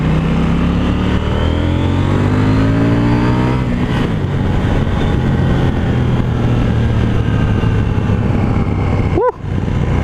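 A KTM 790 Duke motorcycle accelerates hard in third gear, its engine note climbing loud and close in a sustained rising roar, with a brief dip near the end.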